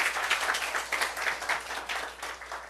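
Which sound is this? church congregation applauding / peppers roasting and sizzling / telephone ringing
church congregation applauding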